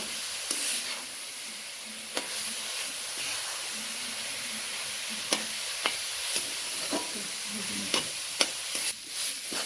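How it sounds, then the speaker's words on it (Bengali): Grated carrot fries in ghee with a steady soft sizzle and hiss, while a spoon stirs and scrapes the pan in scattered close taps, no voices. "আমাদের গ্রেট করা গাজরটা খুব ভালো করে ভেজে নেওয়া হয়ে গেছে ঘি দিয়ে।"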